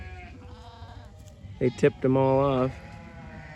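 A few bleats from a flock of sheep and goats being moved, short calls followed by one longer wavering bleat, rising above someone talking over steady outdoor background noise.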